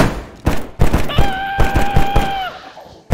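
Gunfire in the DayZ survival game, a rapid string of loud close shots and thuds with a drawn-out shout or groan rising over the middle of the burst.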